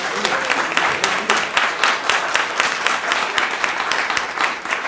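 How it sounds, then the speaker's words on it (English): A breakfast audience at Hub Culture applauds its panel in a steady, dense round of clapping that stays loud and even for the whole stretch, with no voices rising above it. "I'd like you to give my panel an enormous round of applause"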